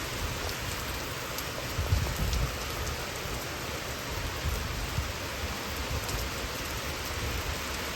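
Steady rain pours down on a riverside boat landing, a dense, even hiss with no pauses and a few faint low rumbles underneath.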